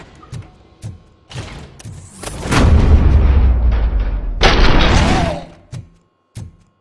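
Several sharp gunshots ring out in the video game RoboCop: Rogue City, then a long roaring burst of heavy booming fire, followed by a few more isolated cracking shots, loud and close.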